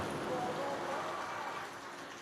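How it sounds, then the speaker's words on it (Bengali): Steady rain falls outdoors on a monsoon morning in Puri, a dense, even hiss of drops on surfaces that stays close and continuous throughout, easing slightly toward the end with no clear talk over it. "তবে বৃষ্টি কমার কোনো চান্স দেখতে পাচ্ছি না।"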